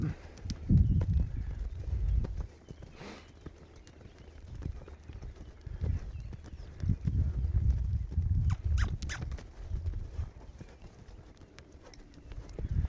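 A young horse back from a few days of rest lopes with a slight hitch in its stride, its hoofbeats thudding in an uneven rolling rhythm at moderate distance over outdoor background noise.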